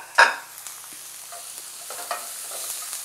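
Drained bacon goes back into a pan with a little olive oil: a sharp initial sizzle as it lands, then a soft continuous frying hiss with faint stirring clicks.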